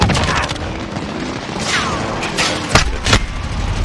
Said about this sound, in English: Enemy white phosphorus incoming.